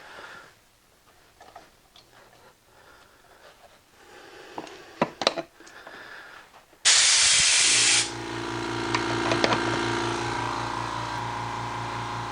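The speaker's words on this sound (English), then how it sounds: "I'm going to turn this compressor on and listen to how quiet it is." A small quiet air compressor in a home workshop, a few clicks and taps, then a loud burst of hissing air before the motor settles into a steady pulsing hum that continues to the end.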